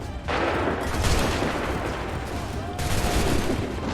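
A line of soldiers fires a musket volley in the Assassin's Creed 3 video game, a loud crackling burst of massed shots that rolls on through the whole moment, with a second wave near the end and faint shouting mixed in.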